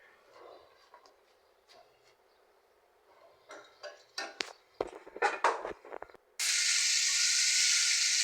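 Spiced poa fish hits a hot pan after a few soft clinks and scrapes of utensils, then bursts into a loud, steady sizzle that fills the rest of the moment.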